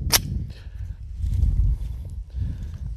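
A single sharp shot from a Taurus G3 9mm pistol cracks near the start, followed by low rumbling handling noise and quiet movement.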